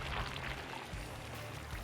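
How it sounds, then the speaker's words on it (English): Loose material pouring steadily into a trough during a simple machines science demonstration, a brief, continuous rushing pour at low level with no voices. "I think we should stop pouring very soon"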